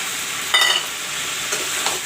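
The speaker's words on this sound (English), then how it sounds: "you can see the vegetable, the barbatti and potato frying with the masala" Barbatti and potato frying with masala in a pan, a close, steady sizzle with a few brief scraping stirs of a spoon, no voices.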